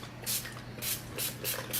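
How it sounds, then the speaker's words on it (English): Several short hissing sprays of facial mist in sequence, each a brief burst of fine spray, close to the microphone with quiet pauses between. "So I'm going to spray this."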